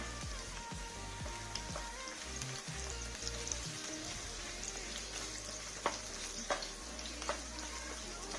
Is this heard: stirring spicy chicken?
yes